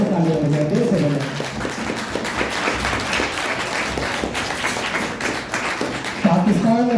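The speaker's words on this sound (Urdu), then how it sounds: "دل سے تالیاں بجائے، دل سے بجائے" An audience at a White Cane Day gathering claps steadily and warmly, dense and continuous applause that keeps going for several seconds, with voices briefly heard at the start and end.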